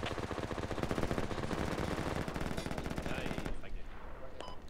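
Sustained rapid machine-gun fire rattles close and loud in the Project Reality combat game, a continuous rhythmic burst lasting several seconds before cutting off, with distant shots trailing after.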